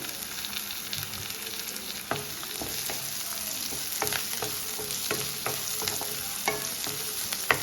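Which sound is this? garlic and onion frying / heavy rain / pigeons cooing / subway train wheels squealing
garlic and onion frying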